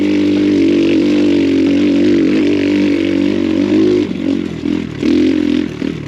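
An X Pro Storm 150 DLX dual sport motorcycle labours up a rocky trail of chunky, loose stones, its engine droning loud and close, with a few dips and throttle surges near the end.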